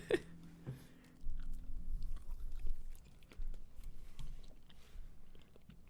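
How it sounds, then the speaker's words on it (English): Someone chews spicy food with a full mouth close to the mic, wet crunching and mastication sounds continuing steadily with small clicks, no talking. "Sorry if I'm chewing it."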